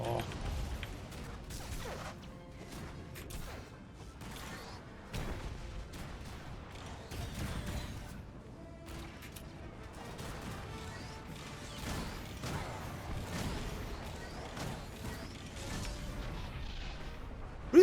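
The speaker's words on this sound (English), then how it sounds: "Really cool explosions." Repeated booms and crashing blasts burst out in an irregular barrage in the video game Star Wars: The Old Republic, with voices mixed in at times.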